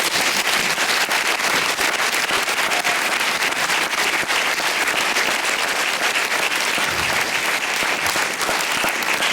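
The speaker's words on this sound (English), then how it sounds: "So please give him a huge, huge round of applause." A large audience claps for an eye surgeon at a humanitarian refractive surgery foundation launch in London, producing a loud, sustained, even roar of applause with no voices over it.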